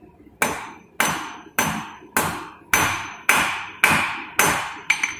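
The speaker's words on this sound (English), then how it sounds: "I'll give it a half-face blow with my hammer" Nine evenly spaced hammer blows ring out on hot iron on an anvil during blacksmith forging, each a sharp loud clang with a brief ringing decay, about one every half second.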